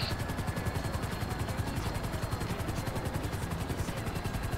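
A video game helicopter roars with a steady, fast rotor chop throughout, loud and constant, with possible gunfire blended into the mechanical drone.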